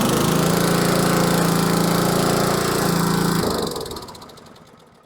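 An older Troy-Bilt Super Tomahawk wood chipper engine runs loud and close with a rough, chattering drone, then shuts down and winds down to quiet after a few seconds.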